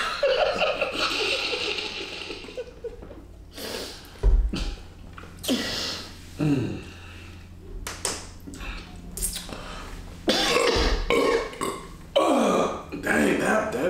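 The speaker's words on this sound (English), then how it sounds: "Dang, that burp was kind of old." Loud burps are let out during a no-burp challenge, mixed with chatter and giggling from several people throughout.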